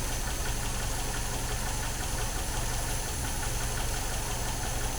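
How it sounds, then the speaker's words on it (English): A warmed-up MGB engine with twin SU carburetors idles steadily and close, a continuous, even rumble with a faint ticking knock running through it and no talk over it. "our engine is suitably warmed up now"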